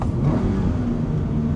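A Toyota GR86 sports car engine hums at a steady, fairly loud drone with a whirring, vacuum-like tone, heard close up with no voices over it.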